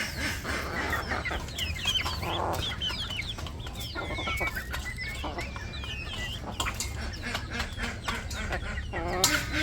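A village flock of about ten to twelve hens clucks and chatters while being fed, close by and busy, with overlapping calls, scratchy pecking, and quiet voices in the background.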